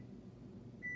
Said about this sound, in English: that's my buzzer that my lunch is ready